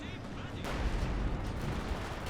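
Rocket artillery barrage in Company of Heroes 2, a dense rumbling wash of impacts and blasts that swells after a brief opening and continues steadily, with a voice talking over it.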